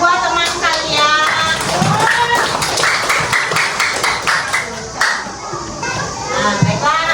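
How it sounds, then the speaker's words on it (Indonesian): Schoolchildren in a classroom clap for two classmates, loud scattered hand claps mixed with excited children's voices and chatter close by, rising and falling over several seconds. "kasih tepuk tangan untuk kedua teman kalian"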